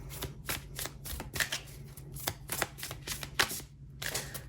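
A deck of tarot cards is shuffled by hand in close, crisp bursts of riffling and snapping cards. The bursts come in a quick uneven rhythm, with short pauses between them.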